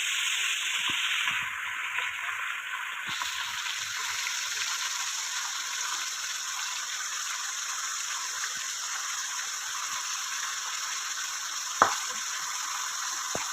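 Chicken curry fries in hot oil with a continuous, even sizzle close by, steady throughout with a single sharp clink near the end.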